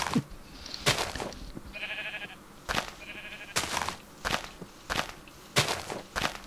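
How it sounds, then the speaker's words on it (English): Sheep in a Minecraft-style video game bleat in short repeated calls between sharp clicks and thumps of footsteps, all fairly close with no talk. "Hey sheep, what's up?"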